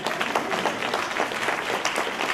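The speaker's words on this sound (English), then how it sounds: "Can you just give one another a great round of applause?" Audience members at an opening-remarks session clap for one another, a steady, moderately loud patter of many hands sustained for a couple of seconds with scattered sharper claps.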